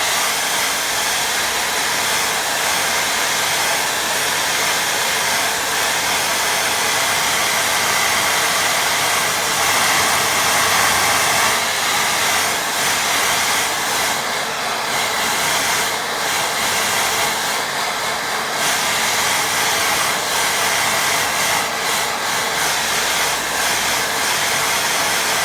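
A hair dryer blows steadily on a watercolour beach-scene painting, a continuous close, loud airy whir with a few slight shifts in pitch and no talking over it.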